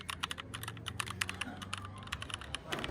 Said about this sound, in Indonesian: apakah Sayuti Melik bisa mengetik naskah ini dengan segala perubahan-perubahannya